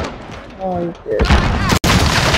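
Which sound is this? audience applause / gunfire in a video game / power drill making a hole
gunfire in a video game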